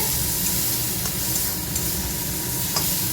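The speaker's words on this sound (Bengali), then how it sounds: "যে মশলাটা ভাজা হয়ে গেছে, দেখো একদম শুকনো শুকনো তেল তেল ভাজা হয়ে গেছে" Spice paste fries in oil in a pan, giving a steady, close sizzle with occasional stirring scrapes and no voices.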